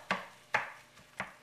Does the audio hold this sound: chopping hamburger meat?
yes